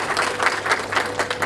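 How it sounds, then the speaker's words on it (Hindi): Staff at a company gathering applaud themselves. A short burst of brisk, dense clapping from a roomful of people, fairly loud and pulsing slightly. "खुद के लिए बस एक बार तालियां बजाएं।"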